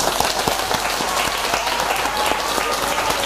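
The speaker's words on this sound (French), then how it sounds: "Alain et Olivier, qu'on peut applaudir." An audience at a live electronic music concert applauds, a dense, loud burst of many hands clapping that holds steady throughout, with speech faintly mixed in.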